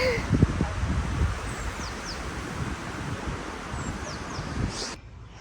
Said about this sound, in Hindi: अचानक से हवा चलने लग गई।